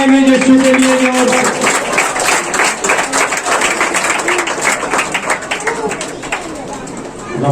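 A church congregation clapping for Jesus in steady, rapid rhythmic applause that fills the space, with voices speaking and calling out over the claps.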